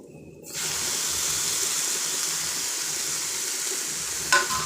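Ground tomato paste poured into a hot frying pan with spices for a goat leg and drumstick paaya, a sudden soft hiss and sizzle that settles into a steady frying sound, faint and unaccompanied.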